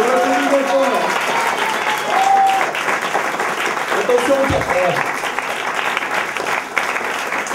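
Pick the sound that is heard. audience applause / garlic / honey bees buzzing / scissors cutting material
audience applause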